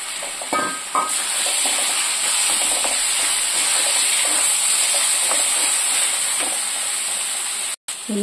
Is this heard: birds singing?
no